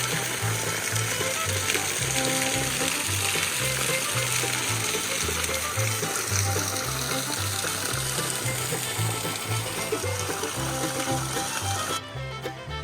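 Big Branch Falls in New River Gorge, West Virginia, produces a steady rushing wash of falling water, with an even broadband roar heard from the side of the falls.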